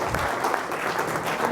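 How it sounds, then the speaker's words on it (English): Audience applause at a franchise business networking event, a dense wash of clapping that stays steady and fairly loud for its short length, with no pause. "Round of applause."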